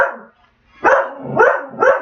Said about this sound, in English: Staffy Mix came approaching the patio, just barking her head off